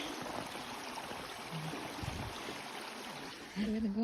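A small stream crossing on a snowy mountain hiking trail near Mt. Pemigewasset gives off a steady, close rush of flowing water, with a louder burst of movement near the end.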